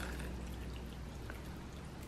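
Boiled water is poured into a pot of seasoned pork set over eggs, giving a quiet, steady, continuous splashing and trickling that holds from start to end with no talking.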